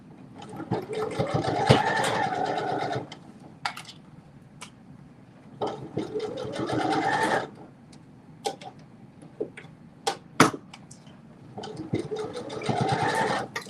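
A sewing machine running a back stitch sewing pants, with short motor runs of a second or two separated by quiet gaps and small clicks, moderately near and fairly soft.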